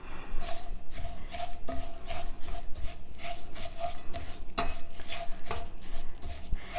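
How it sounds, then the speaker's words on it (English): Onions and garlic sauté in a pan for Mexican white rice, giving a steady close sizzle broken by repeated sharp scrapes and taps of stirring throughout. "I like to saute the onions just a little bit"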